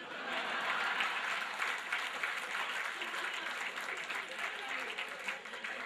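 An audience applauds a speaker at a public talk in a dense, continuous roar of clapping that stays loud and even throughout, with no individual claps standing out.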